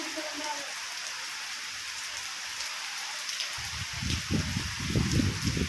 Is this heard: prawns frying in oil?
no